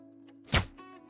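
A single sharp shot at a stag during a tree stand hunt in New Zealand in Call of the Wild, one brief loud crack standing out over a quiet, faintly humming background.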